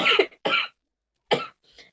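A short coughing fit close to the microphone: three or four sharp coughs in quick succession, the last one softer, with silent gaps between.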